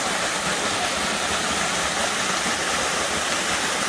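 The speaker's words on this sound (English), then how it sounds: "New waterfall location." A small waterfall in Tennessee, water emerging from the ground above, roars in a steady, dense broadband rush close by, unbroken and with no voices.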